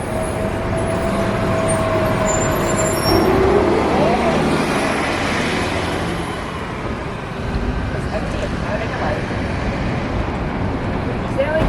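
A New Flyer DE60 LFR articulated bus with a refurbished front passes on a Seattle street, its steady low engine and traffic rumble running beneath a person talking.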